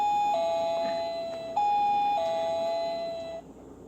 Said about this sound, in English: So they rang the doorbell.